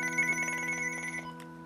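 A telephone rings with a steady electronic tone in a quiet room, the ring holding for over a second before cutting off, with no one talking over it.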